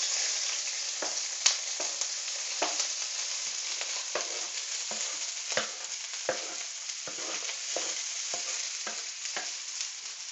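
Chopped onion and chilli frying in a pan, a steady moderate sizzle broken by regular scraping strokes of a spatula, no voices.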